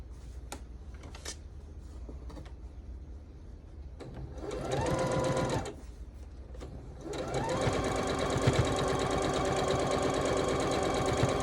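Sewing machine stitching a quilt, with a short burst of stitching partway through and then a longer steady run, close and clear, among light handling noises.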